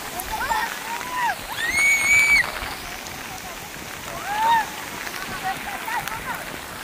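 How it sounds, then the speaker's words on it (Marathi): Rain falls outdoors near a river, making a steady soft hiss, with a voice heard faintly and a few high chirping calls rising above it. "पाऊस पडायला लागलाय मित्रांनो"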